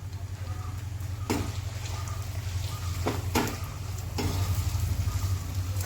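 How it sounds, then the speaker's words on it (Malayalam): Potato cubes deep frying in hot oil make a continuous bubbling sizzle close up, broken by several louder crackling bursts, with a low steady hum underneath. "എണ്ണയിലിട്ട് വറുത്ത് കോരണം."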